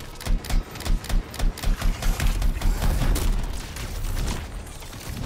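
Rapid gunfire aimed at a boss in the video game Anthem, a fast rhythmic burst of loud shots that blurs into a sustained roar of fire and impacts during the fight.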